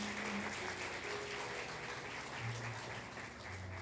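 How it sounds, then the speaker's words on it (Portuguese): Faint, distant applause from a church congregation at an eschatology seminar, a soft continuous patter of clapping under a low background hum. "Uma salva de palmas para ele,"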